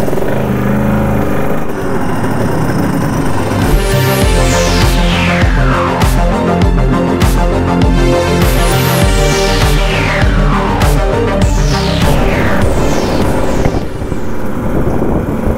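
A motorcycle engine runs loud and close, its note rising and falling through repeated revs over a steady idle rumble.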